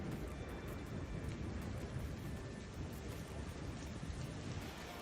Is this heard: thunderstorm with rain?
yes